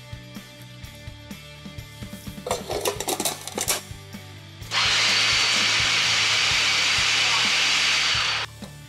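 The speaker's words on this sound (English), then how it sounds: "Start by chopping the sausage and peppers in the food processor." A food processor chops sausage and peppers for a stuffed eggplant filling, running as a loud, steady whirring roar for about four seconds after some earlier clattering and handling noises.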